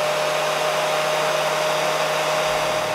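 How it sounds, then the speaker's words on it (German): Hair dryer blowing steadily as a white-noise backdrop, a loud, even broadband whoosh with a faint motor hum, uninterrupted throughout. "Ein Beispiel für ein weißes Rauschen wäre zum Beispiel das Geräusch eines Föhns."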